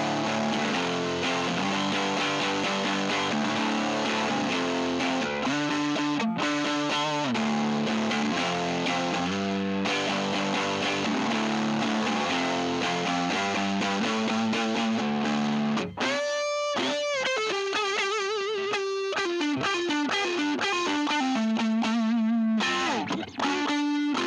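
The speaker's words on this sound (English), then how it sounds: "This amp has a button called the vaporizer." Heavily processed electric guitar, a late-1970s/early-1980s Fernandes Stratocaster through an amp's vaporizer effect, playing a continuous riff, warbling and distorted with a swirling effect, loud and unbroken throughout.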